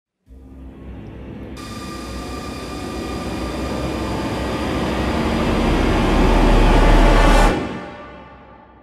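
Nine Arctic S4028 40mm fans at 15,000 RPM spin up together into a loud, rising whine that holds with sharp tonal whistles before cutting off and spinning down.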